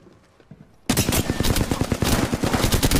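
Rapid, loud bursts of video game gunfire in a round-winning triple kill, a dense string of shots starting abruptly after a quiet moment and continuing steadily to the end.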